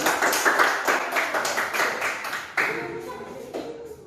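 A classroom of students clapping hands together in a school lesson, a lively burst of many overlapping claps that thins out and softens toward the end.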